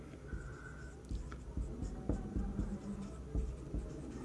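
A pen or chalk writes a note during a maths lesson on LCM and HCF, giving soft scratchy strokes and small taps against a quiet room hum, with no speech.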